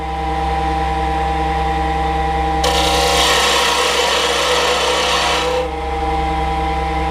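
A Rikon carbide lathe tool takes a 1/8 inch cut into spinning wood on a lathe. A loud, steady rasping scrape lasts about three seconds over the constant hum of the running lathe.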